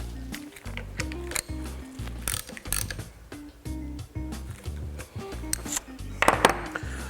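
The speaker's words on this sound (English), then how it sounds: "Go ahead and reinstall your air cap. Torque that to 20 inch-pounds." A torque wrench tightens the air cap of an XFUSION Hilo spray gun to 20 inch-pounds during servicing. It gives repeated ratcheting clicks in uneven bursts with some metallic handling noise and no speech.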